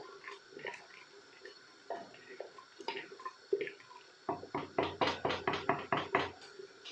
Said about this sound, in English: Water which has been added has come to a boil.